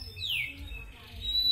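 A lovebird chirps softly at some distance, a short descending whistle followed by a thin high tone against a quiet, low rumbling background.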